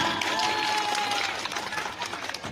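An audience at a village official appointment announcement gives a brief, fairly faint round of clapping, a dense patter of hands with no speech over it.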